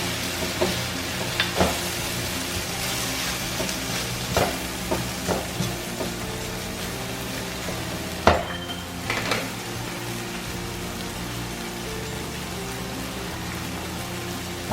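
Pork stir-frying in a pan while cooking a mung bean vegetable dish, giving a steady sizzle with scattered clacks of stirring and a few sharper knocks. It plays close-up and runs continuously with no talk.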